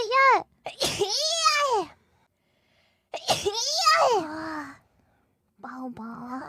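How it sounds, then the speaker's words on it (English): Several sneezes in quick succession, each a sharp voiced burst followed by pauses, close and fairly loud, with a further softer sneeze near the end. "how many sneezes is that?"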